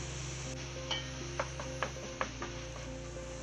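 Onion with a little salt cooking in a pan, a soft sizzle under a low hum, with several light spoon scrapes and taps as it is stirred.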